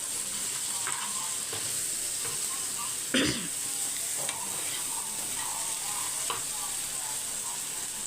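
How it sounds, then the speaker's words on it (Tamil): Mackerel fries in a pan on a low flame with a steady close sizzle, broken by a sharp scrape as the fish is turned and a couple of lighter clinks. "சிம்மில் வச்சு தான் ஃப்ரை பண்ணணும்"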